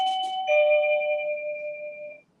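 A communicator button sounds a two-tone electronic chime like a doorbell, clear and close, the second tone ringing out steadily before cutting off, with no talking.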